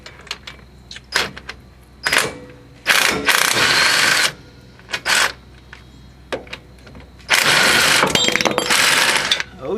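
A half-inch drive tool works a bolt on the wheel hub of a 2004 Ford Explorer 4.0L. Loud, close bursts of rapid mechanical whirring start and stop repeatedly, broken by short clicks and quiet gaps.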